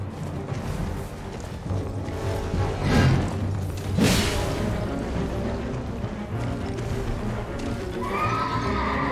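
In the video game Elden Ring, a horse neighs while being struck in combat, with thuds and whooshing blows around it. The whinnies rise loudly in the middle over a busy, continuous game backdrop.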